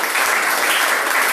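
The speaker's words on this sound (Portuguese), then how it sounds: "As palmas no nome do Senhor" A church congregation breaks into applause, a loud, dense, continuous patter of many hands clapping close by throughout the short stretch.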